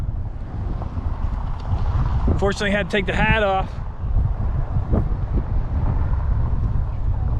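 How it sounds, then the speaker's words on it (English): Strong wind buffets the microphone with a constant low roar in the South Dakota Badlands, while a person speaks briefly in the middle. "it is very windy out here"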